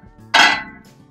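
A heavy crescent wrench serves as a hammer to strike a chain link, giving one sharp, close metallic clank with a brief ringing decay over faint background quiet.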